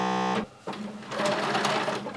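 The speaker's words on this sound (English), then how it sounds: "To create a row of stay stitching, you're just going to place the edge of your fabric along the ½ inch mark on your sewing machine" A sewing machine runs stay stitching along a fabric edge: a loud steady buzzing stitch, a brief pause, then the needle motor starting up again and running on.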